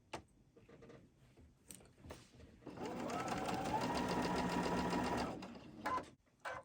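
A sewing machine runs steadily for a few seconds, stitching sashing onto a pinned quilt. The motor whirs close by, with faint handling clicks before and after.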